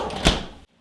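A freezer door swings shut in a home kitchen with one short, solid thump, followed by a brief near-silence.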